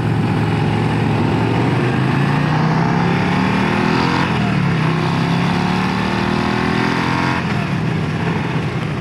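A 2024 Harley-Davidson CVO Road Glide ST motorcycle engine revs loudly and close, its pitch rising through repeated climbs with a sharp drop and restart around the shifts, a continuous throaty roar with no voices.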